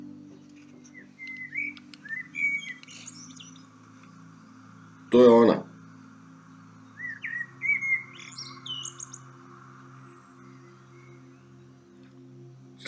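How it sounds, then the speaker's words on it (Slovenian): Outdoors at 4 a.m., a small songbird gives repeated bright chirping phrases, moderately loud, with a steady low hum underneath and a man's short spoken remark in the middle. "sem vam enkrat razlagal o enih ptičicah. Ob 4 zjutraj."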